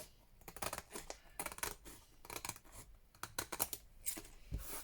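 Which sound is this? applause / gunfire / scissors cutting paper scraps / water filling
scissors cutting paper scraps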